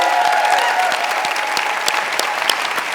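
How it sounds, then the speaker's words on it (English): An awards ceremony audience claps in loud, dense, sustained applause, with a few sharper individual claps standing out close by. "this is 3 years worth of applause"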